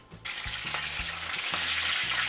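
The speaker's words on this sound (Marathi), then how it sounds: "त्याच्यामध्ये बघा अर्धा चमचा फक्त जिरे टाकायचे, कढीपत्ता" Cumin seeds and curry leaves hit hot oil in a pan for a dry Maharashtrian dried-fish and potato dish, bursting into a loud, steady, close sizzle with light rhythmic stirring clatter, no voices.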